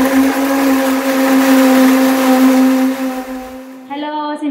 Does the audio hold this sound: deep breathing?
no